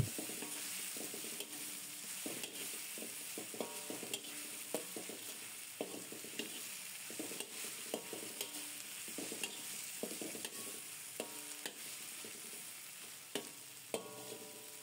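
Steady sizzling of tomatoes frying in a pan with repeated scraping and clicking as they are stirred, close and continuous with no talking.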